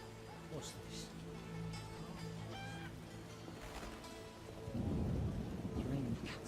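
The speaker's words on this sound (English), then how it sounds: "It's raining cats and dogs." Rain pours steadily in the video game The Witcher while a deep rumble of thunder rolls in near the end, with speech heard over the storm.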